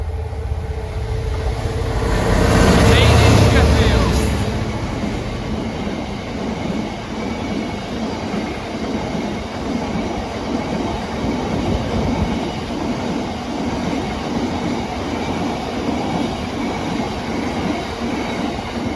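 A Class 66 diesel freight locomotive, 66747, rumbles past nearby with a rising rush as it approaches, then continues with steady rolling wheel noise and clatter for a long stretch.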